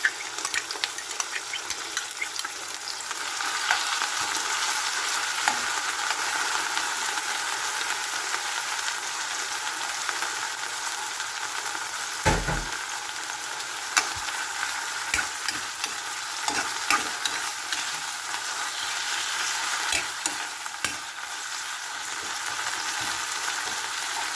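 Pork liver sautés with onion and garlic in a pan, giving a steady, close hiss of sizzling oil for the whole stretch, with a few soft scrapes and one dull knock around the middle.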